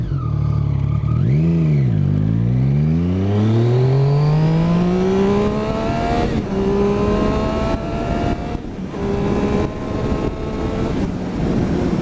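Motorcycle fitted with an Arrow exhaust accelerating hard in first gear, a near, loud engine note that drops, then climbs steadily in pitch over several seconds, with wind buffeting throughout and no talk.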